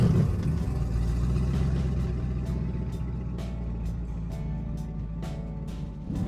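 Multi-port fuel injected boat engines revving up to about 2,000 RPM, a steady loud mechanical drone that holds throughout with faint repeated ticks above it, and no talking.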